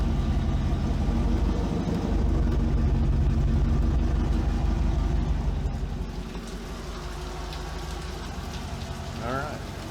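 A Land Rover Discovery 2 with a swapped LS engine idles, its exhaust giving a steady, close, low rumble with a broad hiss on top that eases slightly partway through.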